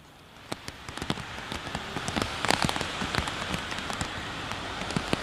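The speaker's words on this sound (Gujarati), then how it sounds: "આ વરસાદ પડવાની શરૂઆત થઈ ચૂકી છે" Heavy monsoon rain pours steadily in Ahmedabad, a dense continuous hiss with many sharp drop impacts pattering close by on a surface, no talk.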